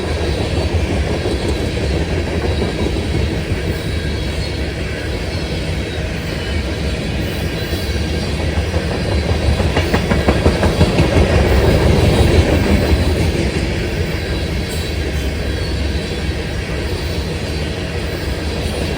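Pan Am SD40-2 diesel locomotives rolling along a shortline railroad, a loud continuous rumble with clickety-clack wheels on rail that swells slightly midway and carries on without a break.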